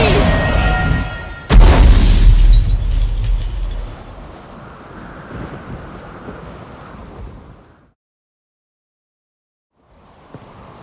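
A thunderstorm in the video game Witcher 3: a loud thunder crack hits near the start, then rolling rumble and steady rain fade out into silence, with a faint return of ambience at the end.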